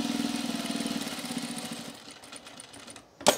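Sewing machine top stitching canvas on men's cargo shorts, a rapid rhythmic mechanical chatter that runs steadily, then slows and stops, followed by a sharp clunk near the end.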